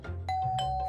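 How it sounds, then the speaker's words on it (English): A cartoon doorbell chimes with two bright ding-dong tones ringing out over a low musical bed, short and close. "That's the doorbell."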